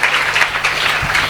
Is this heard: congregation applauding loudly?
yes